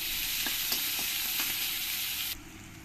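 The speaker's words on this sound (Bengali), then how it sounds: "পেঁয়াজটাকে আমি রসুনের সঙ্গে মিশিয়ে নেব। মিশিয়ে পেঁয়াজগুলোকেও ভেজে নেব।" Chopped onions sizzle and fry with garlic in a pan, a steady bright hiss with a few soft stirring scrapes, cutting abruptly quieter near the end; no talking.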